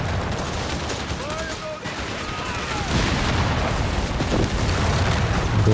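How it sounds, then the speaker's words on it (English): Anti-tank gun fire and explosions in a Company of Heroes 3 match, a Panzer III under attack, loud and continuous battle noise with dense booms and gunfire throughout, brief whistling tones in the background. "AT gun connecting with the Panzer III, however, and here comes the bulldozer"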